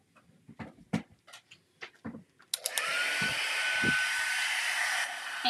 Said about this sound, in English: let's just get out the heat tool